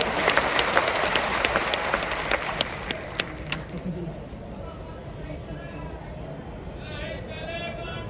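A rural audience claps loudly and rapidly at first, then the applause thins and fades while someone talks over it.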